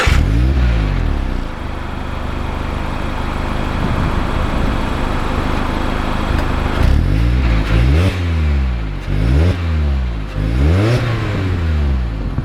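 A Mazda Miata RF hardtop convertible accelerates on the road, its engine revving up repeatedly through several gear changes in rising and falling sweeps, loud and close from inside the car, with no talking.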